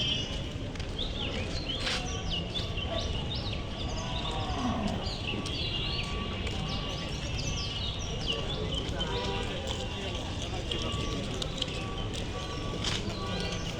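Cattle at a crowded Qurbani livestock market, with repeated moos from nearby and farther animals over a busy din of voices, shuffling and outdoor commotion.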